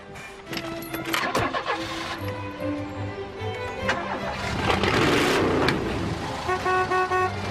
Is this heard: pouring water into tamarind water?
no